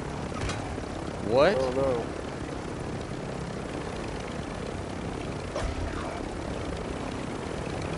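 Helicopter in the Call of Duty Warzone 2 video game, a steady droning rotor and engine wash running throughout beneath brief spoken exclamations from players.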